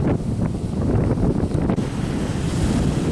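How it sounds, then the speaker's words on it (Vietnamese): Rough sea surf pounding near a small fishing boat under strong gusting wind, with a steady loud roar of waves and wind buffeting the microphone throughout. "ở đây thì sóng gió dữ dằn lắm"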